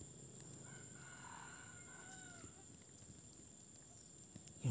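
A wild chicken crows faintly in a mountain setting in a survival video game, with a thin drawn-out crow heard under steady game ambience.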